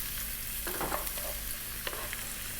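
Chopped onion hits hot sunflower oil in a wok over high heat, giving a steady close sizzle with a few scraping stir strokes, no talking.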